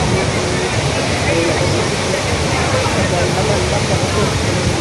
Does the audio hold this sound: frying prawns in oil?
no